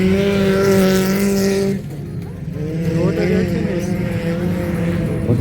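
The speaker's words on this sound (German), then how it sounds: "Böns macht einen Platz gut und überholt Kollegin Klingelhofer." Youth-class autocross cars race at Hesborn, Germany, with engines roaring and revving up close as one car overtakes another. Excited commentary runs over the engine noise throughout.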